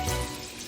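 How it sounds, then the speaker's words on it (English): Sausages browning in a frying pan give a steady close sizzle for a short stretch, loud at the start and easing slightly, with a small bump near the end. "we have our sausages going in the pan over there, and we're going to get him browned real good"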